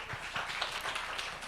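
Faint, scattered clapping from a church congregation welcoming a pastor to the front, a brief patter of hands with uneven bursts heard from some distance.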